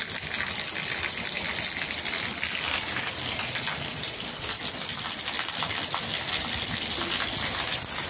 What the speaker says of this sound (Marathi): पायऱ्यावरून तर किती मस्त असं पाणी बाहेर खाली येते बघा छानपैकी